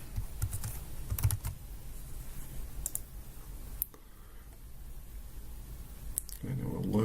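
Computer keyboard typing and mouse clicks while renaming a column in an Excel spreadsheet, with scattered sharp clicks and short bursts of keystrokes, close and fairly quiet, under a low room background.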